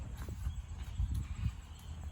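A horse walking under a rider, hooves landing in a low, steady rhythm of dull thuds, close by with faint background noise and no talk.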